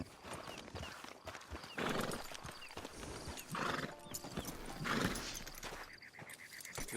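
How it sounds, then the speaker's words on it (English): Within the Red Dead Redemption 2 video game, horse hooves clip-clop at a walk near a camp, with occasional neighs and snorts, moderately close among faint ambient background. "Get your horse."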